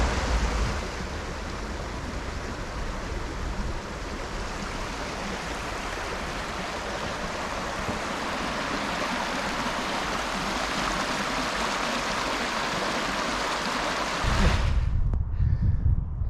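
A stream rushes steadily under a footbridge on a Peak District hill path, a constant close broadband flow of water that stays even throughout, with a brief clunk near the end.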